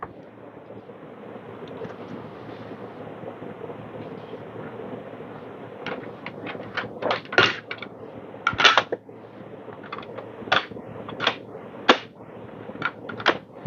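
A Timemore Sculptor 078S coffee grinder's heavy parts are handled close by: soft rustling gives way to a run of sharp clacks, taps and knocks in uneven bursts, with no talking.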